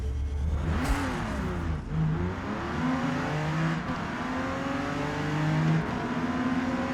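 A 1970 Porsche 914-6 in Forza Motorsport at Road America revs and accelerates through several rising gear pulls, its engine whine climbing then dropping at each shift, loud and close with no talk.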